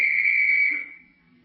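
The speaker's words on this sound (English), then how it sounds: "that policeman whistled at you" A policeman's whistle sounds once as a radio sound effect, a single shrill sustained tone held close and loud before it fades away.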